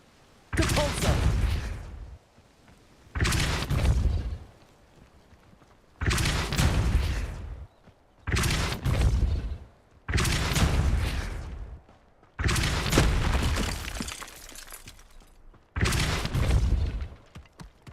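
In the Hogwarts Legacy video game, the Depulso force spell is cast again and again: seven loud, roaring blasts of about a second and a half each, separated by short quiet gaps.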